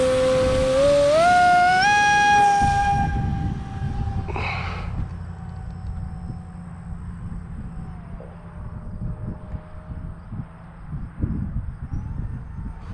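A 6S racing drone fitted with an APC 6x4 propeller spins up with a rising motor whine, lifts off and flies, its high buzzing tone fading to a steady, more distant drone with wind noise and faint shifts in pitch.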